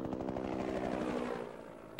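Spray planes on a Colombian crop-spraying mission flying overhead, with a steady propeller-engine drone that fades slightly toward the end and a voice talking over it.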